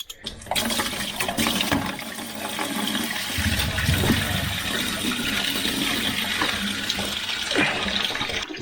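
Engine coolant from a Land Rover Discovery 3 drains in a continuous pouring, splashing stream, fairly loud and close, lasting several seconds with slight surges and no talk.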